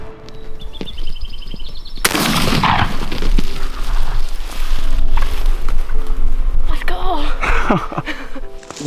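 A single sharp, loud gunshot fired at a wild turkey during a hunt, with a broadband burst around two seconds in and a rumbling tail, followed by continuous outdoor noise and faint movement.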